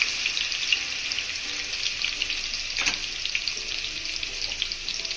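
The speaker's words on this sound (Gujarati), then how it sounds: "તેલ ગરમ થઈ ગયું છે, હવે એમાં પેસ્ટ નાખીશું।" A paste spits and fries in hot oil over a low flame while fried rice is being made, a dense, even hiss with one sharp utensil clack partway through.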